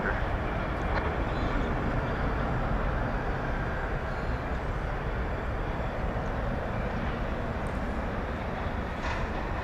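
An American Airlines Airbus A321 arriving from Los Angeles rumbles steadily at an airport, its engine roar broad and continuous through the whole stretch, with faint voices beneath.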